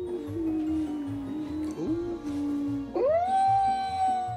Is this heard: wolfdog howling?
yes